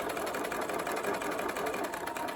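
A sewing machine runs steadily, stitching a pocket seam on a fabric tool roll, with a fast even mechanical whir and rapid needle patter throughout and no talking.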